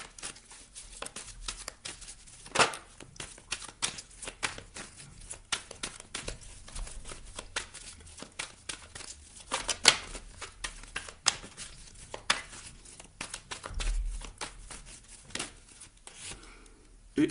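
Tarot cards being drawn and laid into a spread, with steady soft shuffling, sliding and flicking of card stock, a few sharper snaps, close and quiet with no one talking.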